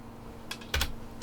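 Several quick clicks on a computer keyboard, a short burst of separate keystrokes with small gaps between them, close and clear over a quiet room.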